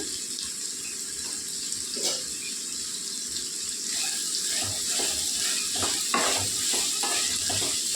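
Spiny gourd curry with salt and turmeric being stirred in a pan: a steady soft sizzle under repeated scraping stir strokes, growing more frequent in the second half, close and moderately quiet, with no talking.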